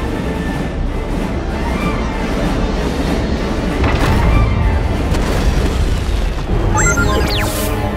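Heavy booms and blasts from cannon fire in The Wonderful 101: Remastered, a dense, continuous barrage of explosions with rumbling low end, briefly joined by whining high-pitched effects near the end.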